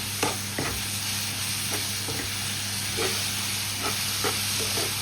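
Chopped tomato with salt frying in a pan for a chicken roll filling, giving a loud, constant hissing sizzle with occasional soft stirring clicks and no voices.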